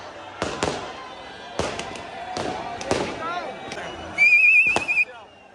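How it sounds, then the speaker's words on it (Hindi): Firecrackers bursting at New Year in Manali, sharp loud bangs in uneven clusters of two or three, echoing off surroundings, with a shrill whistling rocket near the end over a noisy crowd. "पटाखे ही पटाखे पड़ रहे हैं मनाली में न्यू ईयर के इस मोमेंट पर।"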